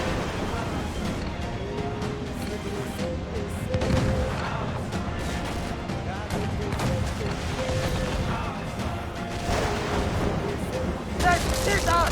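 Ship cannons booming in Assassin's Creed Freedom Cry naval combat, repeated heavy blasts and crashes over a continuous roar of sea and battle noise, with shouted commands mixed in.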